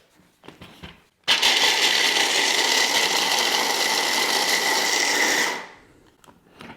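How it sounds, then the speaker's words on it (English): Hazelnuts being ground in a small electric grinder: after a few faint knocks, a loud, steady whirring buzz starts abruptly, runs for about four seconds and winds down to quiet handling sounds. "let's just grind up the hazelnuts first"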